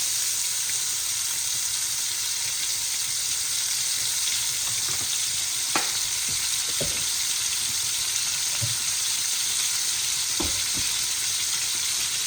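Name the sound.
oil sizzling in pan for spaghetti meatballs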